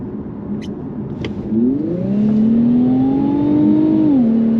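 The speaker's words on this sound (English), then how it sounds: "I'm going to slow down a little bit and then kind of test the roll on acceleration here." 2021 Infiniti Q50 Red Sport 400 with all-wheel drive doing a rolling acceleration, its engine note rising steadily in pitch and loudness into a strong sustained whine before easing off near the end.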